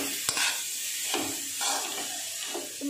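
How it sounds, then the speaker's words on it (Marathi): Grated carrot halwa being stirred in a pan with ghee, a soft scraping and sizzling texture that swells and fades in slow repeated strokes, close and steady, with no talking. "आणि याला 5 मिनिट छान हलवत राहायचं आहे।"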